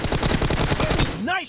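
Rapid automatic gunfire from a shooter video game rattles loud and close in a fast steady burst, then breaks off into a short swooping electronic tone.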